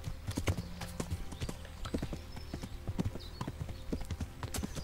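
Hooves clip-clop in a steady rhythm close by, a horse trotting along in Kingdom Come: Deliverance with faint ambient sounds behind.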